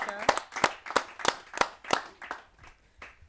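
A few people clap in slow, separate, evenly spaced claps to welcome a senior woman poet at a Hindi poetry gathering, about eight distinct claps that thin out and fade toward the end.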